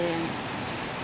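Rain pouring onto hot ground and pavement, a steady broadband hiss of drops, with a brief voice-like tone at the very start.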